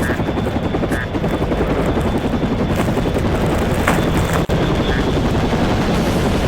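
Helicopter rotor drone in a fighter plane video game, sustained and loud, with bursts of gunfire and a few faint tonal blips over it.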